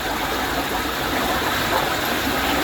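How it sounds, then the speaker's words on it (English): Water gushing steadily through a garden pond filter, a close, continuous rushing flow with no pauses over a couple of seconds. "I'm going to give this a good flush."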